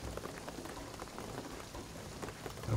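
Steady rain falling in the video game Shadow of the Tomb Raider, a dense continuous hiss of drops on surfaces, fairly loud and unbroken throughout, with a low rumble swelling at the very end.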